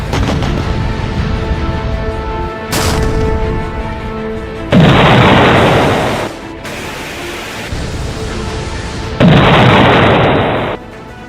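Ammunition detonating aboard the Russian missile cruiser Moskva, heard as two loud, sustained booming blasts of broadband roar, each lasting about a second and a half, over a constant rumbling background with a sharp burst in between.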